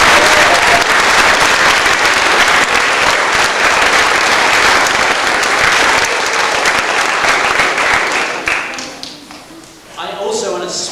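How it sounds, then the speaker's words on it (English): A primary school assembly audience of children and adults claps loudly and steadily for a pupil, the dense applause holding for about nine seconds before thinning out and fading, with a brief swell of voices at the end. "we want a big clap for her"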